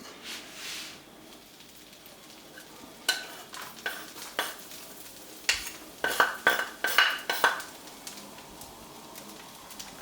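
Chopped garlic and shrimp frying in butter in a pan, a soft steady sizzle broken by repeated clinks and scrapes of a utensil stirring against the pan, growing busier toward the end.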